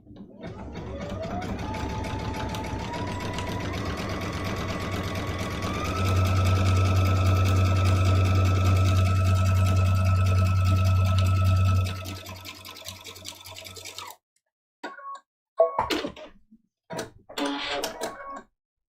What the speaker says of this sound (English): I'm going to just start by sewing right across the cuff